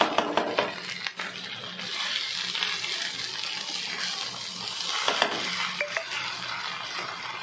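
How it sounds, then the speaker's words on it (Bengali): Chal potol being stirred as it fries in ghee in a pan, a soft steady sizzle with light scraping and clinking from the stirring, fairly quiet. "জাস্ট একটু নাড়বো"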